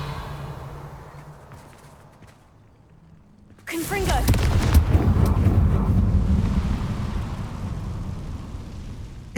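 A sudden loud burst from a Confringo blasting spell in the video game Hogwarts Legacy breaks a quiet stretch, then sustained rumbling, crackling explosion noise carries on to the end.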